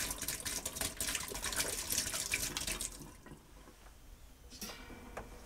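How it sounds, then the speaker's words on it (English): Hot water splashes out of a beer bottle into a sink during home-brew bottling, a loud, gushing pour for about three seconds that trails off into faint drips. "Now take your first beer bottle and dump the hot water out of it."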